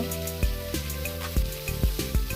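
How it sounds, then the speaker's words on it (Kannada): Chakramuni (vitamin) leaves are sautéed in a pan, a steady sizzle broken by several sharp knocks of a spoon stirring against the pan. "ಈಗ ಸೊಪ್ಪು ಹಾಕಿ ಬಾಡಿಸಿಕೊಳ್ಬೇಕು ಅದರ ಹಸಿ ವಾಸನೆಲ್ಲ ಹೋಗಬೇಕು"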